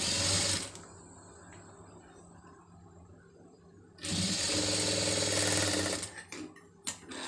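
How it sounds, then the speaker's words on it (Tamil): A sewing machine stitching a sleeve joint and lining piece runs in two loud, close bursts, one brief at the start and a longer one after a quiet pause. A few small mechanical clicks follow. "கரெக்டாக அளவு பார்த்துட்டு தையல் போட்டுக்கிறோங்க"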